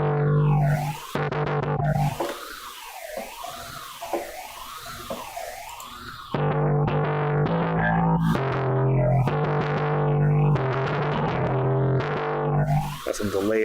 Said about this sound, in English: I got every pedal on. Delay, phaser, chorus, fuzz.